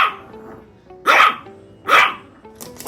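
A toy poodle barks twice in sharp, loud bursts at close range, with a brief third yelp starting at the end; quieter household sounds sit between the barks.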